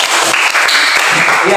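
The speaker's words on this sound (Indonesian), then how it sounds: "tepuk tangan buat kelompok 2" Fourth-grade children in a classroom clap for a student group, a loud, continuous burst of hand claps filling the room, with some voices mixed in.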